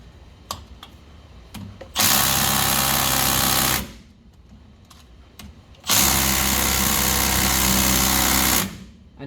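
An impact wrench fitted with a chrome socket works on a Brembo brake install on a Mazda, firing two long loud hammering bursts of about two and three seconds, with a few short clicks and rattles between them.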